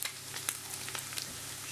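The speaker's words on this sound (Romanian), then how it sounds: "în grăsimea de aici se călește ceapa și morcovul" Onion and carrot fry in fat for a leek and smoked meat soup, a soft continuous sizzle with small crackles and pops, close and quiet.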